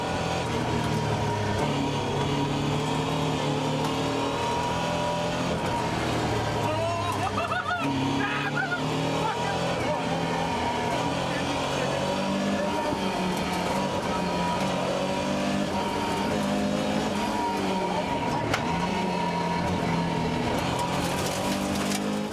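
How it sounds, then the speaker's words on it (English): A Porsche 944 rally car races flat out along a tarmac stage, its engine note holding a steady, loud drone with shifting pitch, continuous and close throughout. "And the Porsche 944 of Dave McRae"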